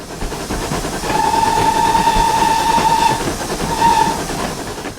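In Train Simulator, a London Transport Class 20 locomotive rumbles steadily along the line, its horn sounding one long blast and then a short one over the continuous running noise, with no voices.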